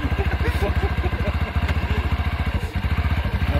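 A Minsk Goose 400 motorcycle engine chugs at close range with a fast, even, pulsing beat, running steadily throughout.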